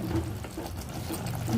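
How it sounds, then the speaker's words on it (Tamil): Water poured into a cooking pot of Dindigul thalapakatti-style mutton biryani after the meat has cooked, a steady close splashing flow lasting a moment with no talk. "நம்ம அரிசிக்கு தேவையான தண்ணி ஊற்றிக்கலாம்."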